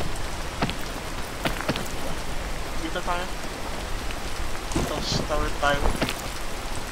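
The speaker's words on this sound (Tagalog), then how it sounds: "Ay, umuulan." Steady rain falling hiss fills the whole clip, continuous and fairly loud, while people talk over it.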